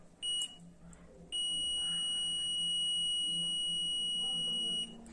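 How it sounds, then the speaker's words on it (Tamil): A multimeter in continuity test mode gives a steady high-pitched electronic beep that starts briefly, stops, then holds for several seconds before cutting off, loud and clear over a quiet room. "இந்த பீப் சவுண்டு கேட்டிருப்பீங்க,"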